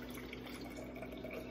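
Juice poured from a container into another vessel, a steady soft trickle of liquid running continuously and fairly quietly with no talk over it.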